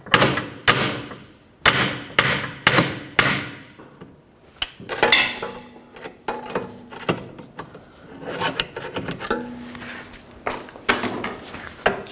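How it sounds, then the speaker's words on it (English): Several sharp hammer taps on a metal bolt early on, then scraping, rubbing and knocking of parts being worked loose, close by, during rear coil spring replacement on a 2004-08 Nissan Maxima. "give the bolt a little tap with a hammer"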